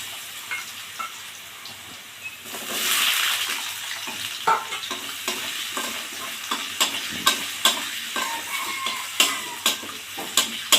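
Cut potatoes drop into hot oil in a pan for a fish curry, bursting into a loud sizzle, then a spoon or spatula scrapes and stirs them in repeated sharp knocks over a steady frying hiss.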